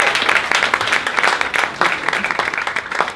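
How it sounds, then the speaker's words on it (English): Loud, close applause from a theatre audience at a Rotary youth performance showcase, with dense uneven clapping that swells and dips in bursts for several seconds. "So can everyone give a big round of applause to Ben MacNevin."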